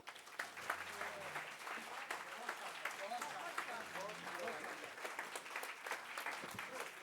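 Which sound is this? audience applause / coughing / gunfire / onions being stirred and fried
audience applause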